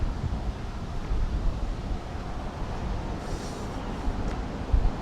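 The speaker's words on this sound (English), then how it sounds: "Might get a bit of wind noise" Wind gusting across an open rooftop infinity-pool deck in Bangkok, a steady broadband rumble buffeting the microphone with low thumps throughout, no talking.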